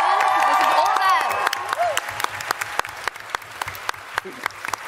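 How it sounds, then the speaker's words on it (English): Audience applause and cheering at a Twitchcon Paris 2023 panel, a dense roar of clapping and whoops that thins into scattered individual claps, with a voice talking over the start. "can we get like a massive round of applause for them actually making this happen?"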